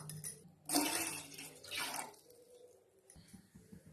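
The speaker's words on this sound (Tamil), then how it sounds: "அதுல 2 டம்ளர் அளவுக்கு தண்ணி ஆட் பண்ணிக்கலாம்." Water splashes and pours into a metal pot in two short gushes, fairly quiet, followed by faint clinks of cookware.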